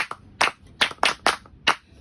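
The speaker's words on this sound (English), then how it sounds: "Let me clap for mommy." Claps from a small group at a child-care talk, several sharp bursts of clapping in a loose, uneven rhythm, close and fairly loud with quiet gaps between.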